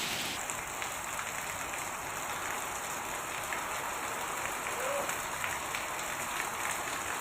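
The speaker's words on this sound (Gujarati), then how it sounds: "ખાંભા પંથકમાં પવન સાથે આ કમોસમી વરસાદ વરસી રહ્યો છે" Unseasonal rain falling steadily with strong wind in the Khambha area of Amreli, Gujarat, a dense continuous hiss of drops close by with no break.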